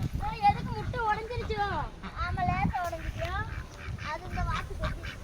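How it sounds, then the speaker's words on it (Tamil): Ducks quack repeatedly in a noisy cluster, their nasal calls overlapping close by. "வாத்து அழகா இருக்கு"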